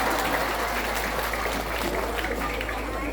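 Steady applause from the audience at a religious lecture gathering in Purbasana, Tarub, a dense, even wash of clapping that holds for the whole stretch with a voice faintly underneath.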